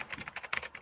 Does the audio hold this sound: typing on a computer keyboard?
yes